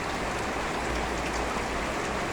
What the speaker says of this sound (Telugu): చూడండి వర్షం ఎంత పడుతుందో